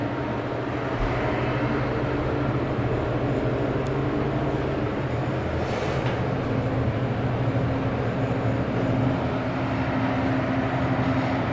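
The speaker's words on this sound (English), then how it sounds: "Let's listen one more time to this awesome motor." Kone Series 220 hydraulic elevator motor in a mall service elevator, a steady loud hum with a broadband machinery roar, running continuously without letup.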